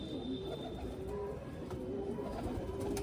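Pigeons kept for sale in Tarn Taran cooing softly in low, repeated murmurs, faint and close with light background noise and no talking.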